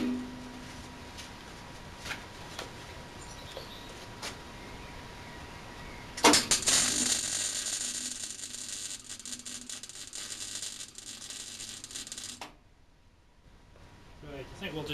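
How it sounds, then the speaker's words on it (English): Tack welding on a dolly build starts abruptly as a loud, close, crackling buzz that runs about six seconds and then cuts off, following quieter workshop noise. "I'm away to be welding now, so you will get flashing lights"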